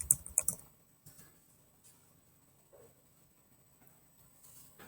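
A password is typed on a computer keyboard: a short, faint flurry of key clicks at the start, then near silence with a few scattered soft taps.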